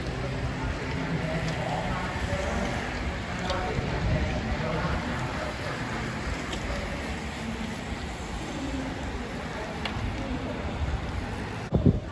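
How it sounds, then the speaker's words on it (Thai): Strong gusting wind with rain outdoors, a constant rough roar buffeting the microphone with scattered patters and knocks, and someone talking over it. "ลมก็แรงนะครับฝนตกลมแรง"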